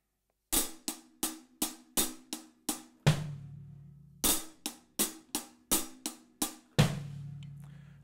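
A drum lick built on an inverted flam paradiddle, played on the hi-hat: quick runs of sharp closed strokes, each phrase ending on a longer washy open hi-hat hit, repeated twice, close and clear.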